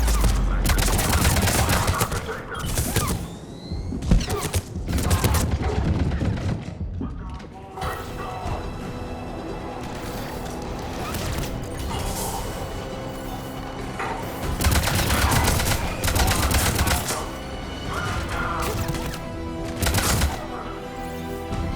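Bursts of rapid gunfire at a checkpoint in the video game Mass Effect Legendary Edition, loud volleys and machine-gun rattles recurring through the clip, interspersed with quieter mechanical clanks and battle noise, with voices talking at times.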